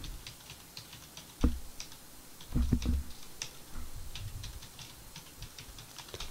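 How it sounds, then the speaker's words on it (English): Someone types on a computer keyboard in quick, irregular bursts of clicky keystrokes, close and moderately quiet, with a few heavier key thumps and no talking. "Let me type it for you."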